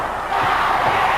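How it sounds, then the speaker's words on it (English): A pro wrestling arena crowd at a Sting and Rick Steiner versus Terry Taylor and Jim Duggan tag match roars in a loud, sustained wall of cheering and shouting. "Listen to this crowd."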